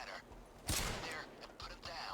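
A sniper rifle in a video game, aimed with a Steam Controller's gyro, fires one sharp loud shot after a run of lighter rhythmic thuds, with fainter repeated thumps afterward.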